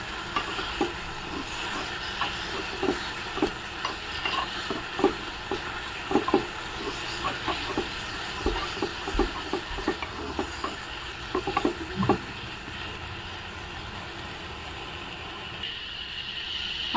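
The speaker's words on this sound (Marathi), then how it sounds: "परतून घेऊया तेलामध्ये।" Spiced potato filling with turmeric and salt sautés in oil while a spoon stirs and taps the pan in a steady, busy clatter over a soft sizzle, fairly close.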